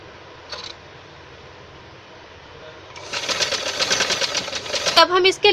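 A sewing machine stitches blouse fabric, starting with a quiet background hum and short sounds of the cloth being handled, then breaking into a fast, loud mechanical whirr during the second half and stopping abruptly at the very end.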